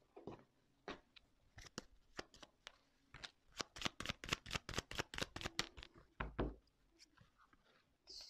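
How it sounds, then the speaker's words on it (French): Tarot cards are shuffled close up in a run of crisp riffling flicks, then a few are drawn with softer isolated snaps. The sound is quiet and close, with no one speaking. "je vais prendre quelques cartes, juste 3 cartes"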